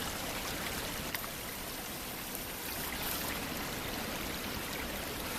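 A stream flowing beside Low Gap Shelter on the Appalachian Trail, a steady, close, continuous rush of running water with no talking.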